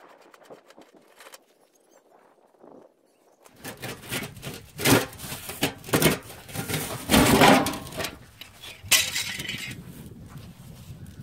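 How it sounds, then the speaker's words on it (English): A charcoal kiln used for making biochar is opened: after a quiet start, metallic clanks and scrapes ring out close by as its latch is undone and the metal lid is pulled off, with clattering knocks continuing. "I'm gonna undo this latch, pull the lid off, and then we'll take a look at what we have"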